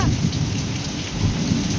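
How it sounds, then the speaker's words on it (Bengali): A heavy thunderstorm downpour pours steadily and loudly, a dense close roar of rain on surfaces with a low rumble of thunder underneath, with no voices. "প্রচণ্ড বৃষ্টি, প্রচণ্ড।"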